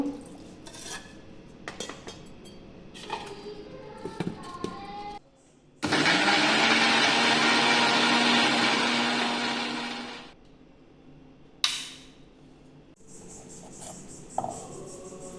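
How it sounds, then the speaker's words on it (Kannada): A kitchen blender churns milk for an urad milkshake, roaring loudly and steadily for about four seconds before winding down, with clinking utensils and bowls before and after. "ಸ್ವಲ್ಪ ಹಾಲು ಹಾಕಿ ಮೊದಲು ಕಡೆದುಕೊಳ್ಬೇಕು"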